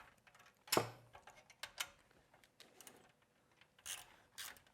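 A socket wrench tightening a bolt on a robot chassis gives one sharp metallic clank, then a run of quick ratcheting clicks in short uneven bursts, fairly quiet and close.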